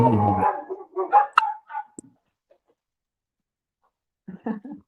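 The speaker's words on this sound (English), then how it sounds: "Our dog." A pet dog gives a few short, sharp yips and barks close by, followed by a pause and then a brief murmur of voices.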